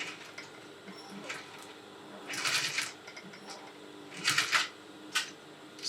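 A straight-stitch sewing machine stitches a buttonhole back and forth in short bursts of rapid, ticking needle clatter separated by quieter pauses, close by.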